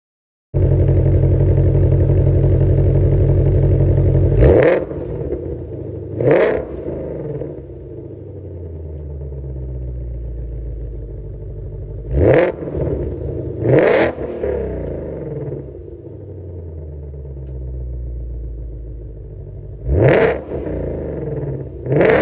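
A 2021 Ford Shelby GT500 engine blasts a loud idle roar, then drops to a rumbling idle broken by sharp throttle blips. The revs come in quick pairs at intervals, with no talking.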